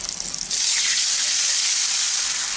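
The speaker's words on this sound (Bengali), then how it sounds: "এখন আমি এর মধ্যে জল দিয়ে দেব।" Water poured into a pan of spiced mustard hilsa curry with turmeric and Kashmiri chili powder sets off a sudden loud, steady hiss that swells over a quieter frying sizzle and holds close and unbroken.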